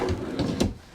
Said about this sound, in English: 3 drawers that are on roller gliders